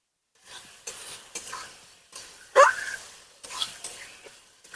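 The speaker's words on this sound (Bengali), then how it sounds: "কতটা সুন্দরভাবে কষিয়ে নিচ্ছি দেখো বন্ধুরা" Spice paste being stir-fried with fried potatoes in a pan, a spatula scraping in repeated bursts with soft sizzling underneath and one louder clatter midway.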